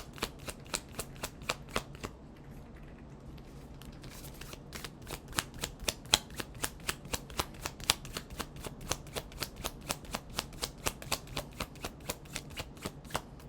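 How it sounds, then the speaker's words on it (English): Tarot cards are shuffled in quick riffling bursts, a rapid, steady run of crisp flicks close up, with no talking. "Okay, I'll shuffle one more time."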